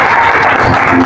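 A church congregation breaks into loud, dense applause, a continuous close wash of clapping hands with faint voices mixed in.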